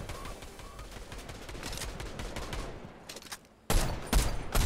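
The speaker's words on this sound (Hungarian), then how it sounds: "Két lövés." Gunfire in the Fortnite video game rattles in a dense, sustained burst of rapid shots, then pauses briefly before two sharper, louder reports crack close by at the end.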